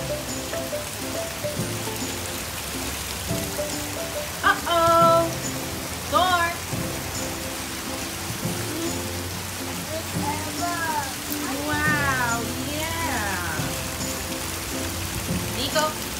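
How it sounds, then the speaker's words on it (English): Steady rain falls outside, a continuous patter on surfaces throughout, with a toddler's and a voices chirping briefly over it. "It's raining."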